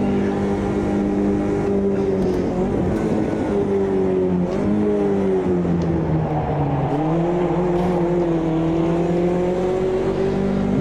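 A racing car engine in Automobilista 2 drones loudly and steadily throughout, its pitch rising and dipping as the driver works through gears and corners on a final lap, with no talk over it.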